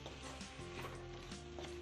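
Tomato and onion frying gently in a pan over a low flame, a soft steady sizzle with faint crackles, close and quiet.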